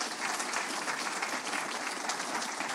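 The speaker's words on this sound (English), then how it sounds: "Can we give them all a round of applause?" Sustained applause from an audience at an official event honoring organizers during a presidential visit to a revenue service head office, steady and dense clapping throughout without a break.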